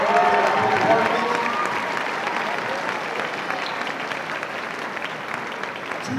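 A packed high school assembly crowd applauds the prom court, loud dense clapping that starts strong and holds steady, easing only slightly toward the end.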